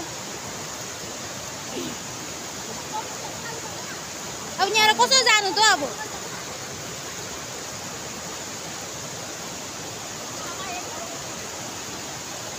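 A forest river flows with a steady, close rushing roar throughout, and a voice talks briefly over it partway through.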